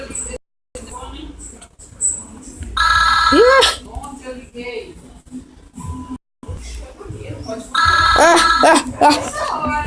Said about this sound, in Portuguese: Pera aí, eu vou atender o telefone